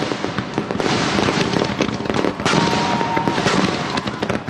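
Dense, loud fireworks bursting and crackling nonstop, with sharp booms layered over a constant sizzle of smaller pops.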